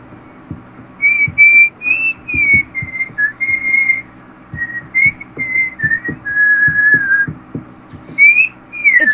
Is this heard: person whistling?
yes